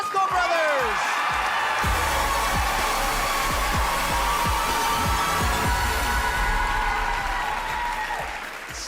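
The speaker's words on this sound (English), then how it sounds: "another round of applause for the Velasco brothers" A large studio audience at a televised talent show semi-final bursts into sustained, dense applause with whoops and cheers, a loud continuous roar filling the hall while a voice carries on over it.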